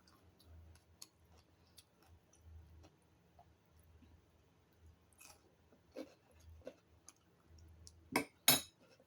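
Someone eats a lunch of sticky rice with chili dip made from tilapia fish, with soft, faint chewing and light clinks of utensils scattered through a quiet room and a couple of louder clacks near the end.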